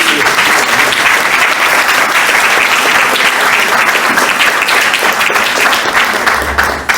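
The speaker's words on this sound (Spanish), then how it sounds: "quiero pedir un aplauso fuerte para Carlitos" Loud, sustained applause from an audience at a Spanish-language gathering greeting Carlitos, the president, dense steady clapping filling the whole stretch before trailing off at the end.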